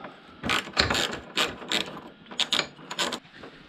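A ratchet undoes bolts on a Triumph Tiger Sport 1050 motorcycle, with several short bursts of rapid clicking separated by pauses, close up and alone.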